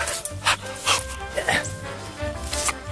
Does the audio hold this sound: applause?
no